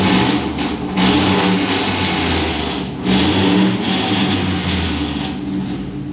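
A car engine outside revs in several loud swells over a steady low rumble, dipping briefly near the middle before picking up again, with no one talking.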